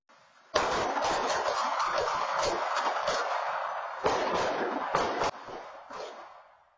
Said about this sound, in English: You can hear several blasts there.